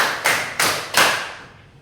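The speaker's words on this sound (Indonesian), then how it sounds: "tepuk 5 2 kali" An audience claps together in a quick rhythmic pattern, three crisp unison claps in a row, loud and roomy, fading into silence after the last one.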